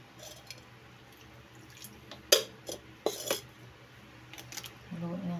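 A spoon stirs a pichi pichi mixture with two cups of water in a bowl, giving a few sharp, scattered clinks and soft liquid swishes over low background hum.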